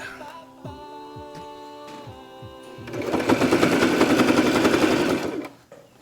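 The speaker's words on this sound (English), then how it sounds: "We're using the lines on the machine to help make a nice straight seam." A sewing machine stitching trim onto a karate uniform jacket, starting with a few slow, separate thumps before breaking into a fast, continuous mechanical chatter that runs for a couple of seconds and then stops, close and loud.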